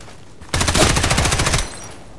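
A rapid automatic burst from a Sig Sauer MPX in the shooter game Contract Wars on the Parkside map, about a second of loud, evenly spaced shots that cut off abruptly into quiet.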